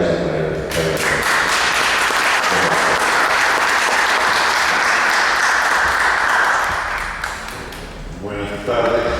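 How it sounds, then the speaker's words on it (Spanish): A large audience at a talk on constitutional reform claps in sustained, loud applause for the invited doctor, a dense roar of hands that swells and fades near the end, with a voice briefly heard at the edges. "les pido un gran aplauso para el doctor"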